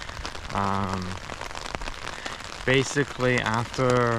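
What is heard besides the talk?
rain on a rainy morning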